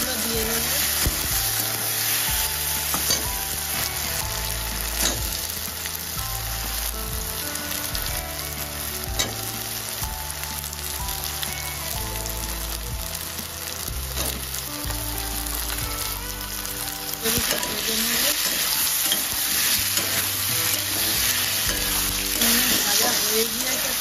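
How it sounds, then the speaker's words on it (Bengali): Potatoes hit hot oil in a pan with onions already fried brown on a gas stove, giving a loud, steady sizzle with occasional scraping stirs throughout, and no one speaking over it. "দেখুন এখানে পেঁয়াজটা লাল হয়ে গিয়েছে, গ্যাসটা একটু আস্ত দিয়ে দেবো, দিয়ে আলুগুলো দিয়ে দেবো।"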